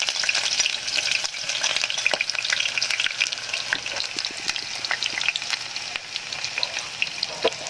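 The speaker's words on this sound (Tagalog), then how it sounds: "Ito na po yung bawang saka sibuyas guys, ilagay natin dito sa mantika kasi mainit na guys." Chopped onion sizzles and crackles steadily in hot oil in a pan, a dense continuous frying hiss with small pops throughout, close and fairly loud, with no voices.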